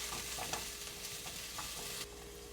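Ingredients for sopas sauté in oil in a pan, a quiet steady sizzle with a few soft stirring scrapes, heard alone without talk.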